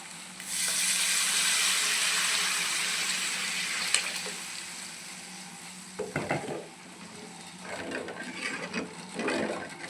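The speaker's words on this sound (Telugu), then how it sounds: "చింతపండు ఉడకబెట్టుకున్నాం కదా ఆ వాటర్ సపరేట్ చేసి ఆ వాటర్ పోస్తున్నాను" Tamarind water pours into a hot, sizzling pan of simmering fish curry, a steady bubbling hiss followed by a few stirring clatters and scrapes near the end.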